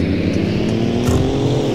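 A stanced, tuned show truck with launch control revs hard up close, its deep engine roar steady and loud with no talk over it.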